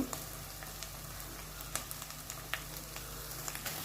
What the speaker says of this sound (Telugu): ఇప్పుడు పచ్చడి వేసుకోవాలండి ఫ్రై చేసుకోవాలి కొద్దిగా ఇంగువ